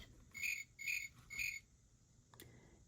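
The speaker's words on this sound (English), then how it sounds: "Cricket." Cricket chirping in three evenly spaced, bright trilled bursts, close and clear, followed by a faint quiet pause with a small click.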